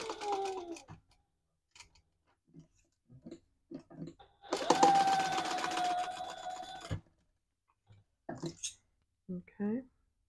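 A sewing machine stitches down the long edges of a retro-style fabric sling in a steady whirring run of about two seconds, close by. Someone speaks briefly before and after it.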